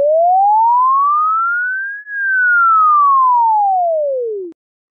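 Pure electronic tone sweeping smoothly upward in pitch, then gliding back down, steady and clean with a brief dip at the turnaround before stopping.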